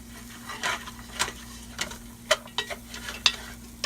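Vegetables sweating down with flour in a pot, heard as a low steady sizzle with scattered light stirring clicks and a few sharp utensil taps against the pot.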